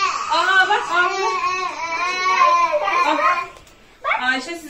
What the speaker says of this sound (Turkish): Kafasını çarpıp birden ağlamaya başladı ya.